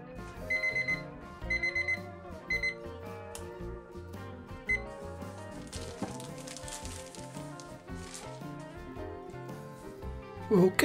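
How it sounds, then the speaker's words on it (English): Kitchen timer alarm ringing while baking Vietnamese baguettes: repeated bright electronic ring bursts in short clusters, fairly faint, over a busy background of music. "Now set your timer for 45 minutes."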